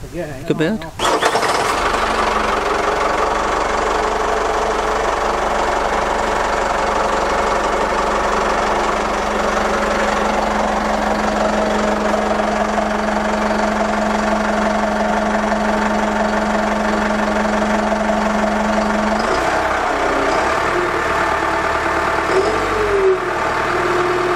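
A Deep V sea trial boat engine starts and runs with its engine hatch closed over noise insulation, a loud steady drone with a low hum that shifts near the end, while someone talks over it.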